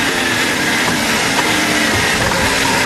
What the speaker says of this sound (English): And that's the sound of Lewis Hamilton